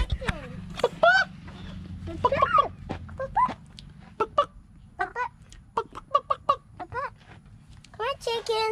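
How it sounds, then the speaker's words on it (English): Chickens, including a hen, cluck and squawk on a farm in a busy, irregular series of close calls, with bursts of clucking throughout and a person talking briefly in the background. "Oh, here's some other chickens over here."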